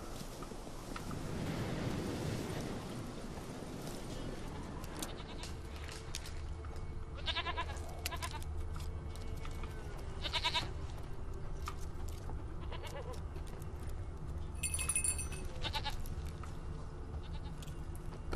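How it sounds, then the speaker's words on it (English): A goat bleats in The Witcher 3 during a wild goat hunt, several short wavering bleats scattered over a windy outdoor game ambience, with no talk. "stupid bloody goat."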